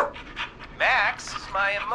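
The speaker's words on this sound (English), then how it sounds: "he barking because he hear that whistling" A dog pants and gives short excited vocal bursts close to the microphone in the video game Killer Frequency, mixed with speech-like tones.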